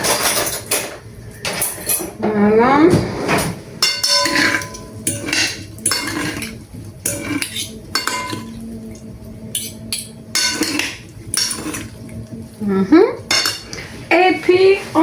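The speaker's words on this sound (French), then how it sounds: "Alors, on va prendre des couverts." Metal cutlery picked up and handled in a home kitchen while a simple mint salad is prepared: repeated clinks and clatters against dishes, loud and close, alternating with a person talking.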